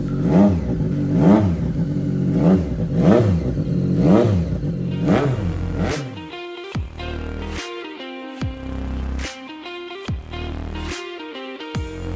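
A 2017 Triumph Street Triple 765 RS motorcycle revs hard in a fast run of repeated rising and falling bursts, then blips its throttle in several sharp separate revs. The engine sits close and loud with no voices.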